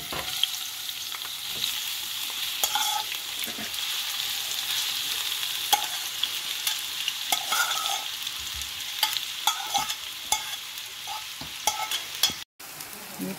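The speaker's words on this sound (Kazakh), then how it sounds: "Пиязымыз қуырылып жатыр." Onions frying in oil for a sauce give a steady, close sizzle with occasional clinks and scrapes of stirring throughout. No one speaks.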